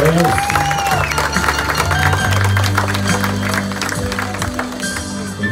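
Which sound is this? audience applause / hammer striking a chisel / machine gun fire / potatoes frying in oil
audience applause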